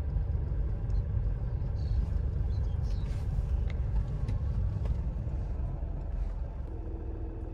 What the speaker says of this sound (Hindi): गाड़ी अपने आप चल रही है, बस मुझे स्टीयरिंग कंट्रोल करना है